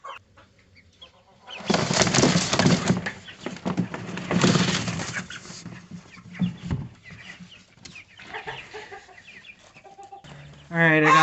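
Chickens moved into a big coop on a farm in freezing cold cluck and shuffle, with louder bursts of fowl noise and handling early on, then quieter scattered clucks and a clear bird call at the end.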